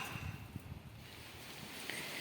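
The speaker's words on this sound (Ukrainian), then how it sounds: "Треба йти закривати теплиці, бо дуже сильний вітер." Strong wind blows outdoors at a village garden with greenhouses, a steady roaring rush of air buffeting the microphone for a couple of seconds.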